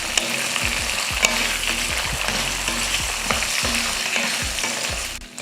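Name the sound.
sautéing tomato and tamarind in pan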